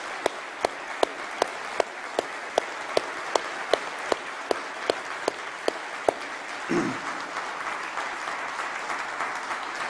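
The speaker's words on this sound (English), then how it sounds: "you will applaud them now." Party conference audience applauding at a UKIP gathering, beginning as slow sharp rhythmic claps, one to two per second, beneath a broad wash of crowd applause that continues steadily to the end, with a brief low rumble midway.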